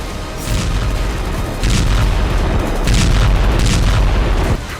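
Heavy bombardment hits Ukrainian positions in the Russia–Ukraine war, a loud, continuous rumble of booming blasts that swells in waves and stays dense throughout.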